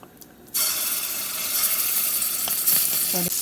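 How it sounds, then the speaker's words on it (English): Curry ingredients dropped into hot oil for a Guyanese egg curry with eddoes, bursting into a loud, steady sizzle that continues after a quiet start, with a few stirring clicks. "this is actually the frying process of all of these ingredients within the oil"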